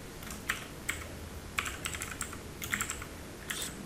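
Keys on a computer keyboard are tapped in quick irregular bursts with brief pauses, close and moderately quiet, with no one speaking.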